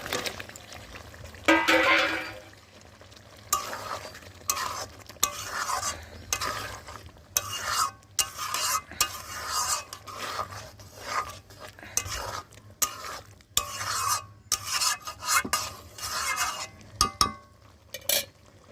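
Boiled potatoes get stirred into a cooked spice paste in a pan, giving irregular scraping and clinking strokes with soft sizzling, close up and with no one talking.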